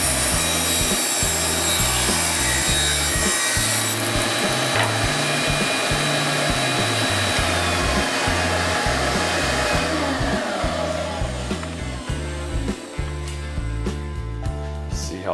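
A saw makes a test cut in wood while building a cajon, loud and close, with a continuous rasping drone and a rhythmic pulsing pattern that runs the whole length with no talking.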